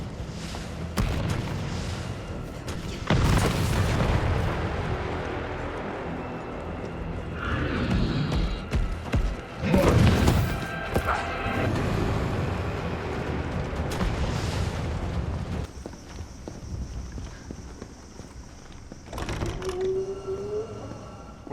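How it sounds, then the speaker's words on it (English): Loud booming blasts and explosions from a rocket launcher in the video game Resident Evil 3, several heavy impacts across a busy, dense game soundtrack with rumbling low end. "Rocket launcher? Really?"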